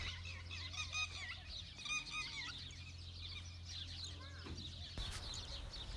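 Chickens clucking inside a farm shed that also holds young goats, on a farm in Dubai, a busy overlapping chorus of clucks and calls over a low steady hum, moderately near, with a brief knock near the end.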